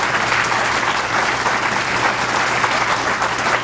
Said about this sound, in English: Let's give labor a round of applause.